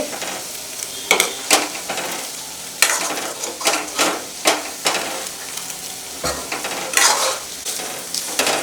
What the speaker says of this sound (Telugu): ఆయిల్లోని బాగా వేగింది ఇక్కడ లైట్ గోల్డెన్ కలర్ వచ్చింది